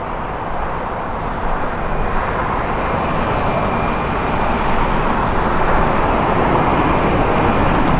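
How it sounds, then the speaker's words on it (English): Delta Airbus A330neo airliner at Los Angeles International Airport, a steady broadband jet roar that swells gradually, heard from a distance outdoors. "Got the Delta Airbus A330 Neo"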